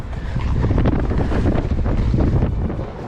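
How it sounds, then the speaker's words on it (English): Strong coastal wind on the Lizard peninsula in Cornwall roars and buffets the microphone continuously, a loud low rumble with gusty swells and no voices. "It's very windy."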